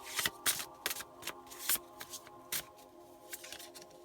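Tarot cards being shuffled by hand in a quiet room, a close series of crisp riffling bursts and soft slaps at irregular intervals, with no talking.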